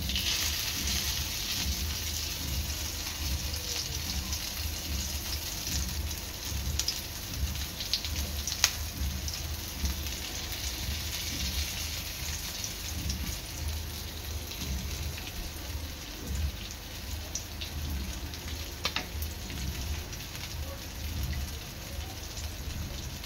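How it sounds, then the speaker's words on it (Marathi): Mutton chops shallow frying in hot oil in a pan, a steady dense sizzle with crackling spits and occasional sharp pops, close and continuous with no talk. "आता इथे पॅन मध्ये तेल गरम झालेलं आहे। आता मी एक एक चाप टाकणार आहे।"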